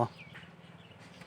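A chicken clucks softly in a quick, rhythmic series of short pulses, faint and close, after a brief louder burst at the start.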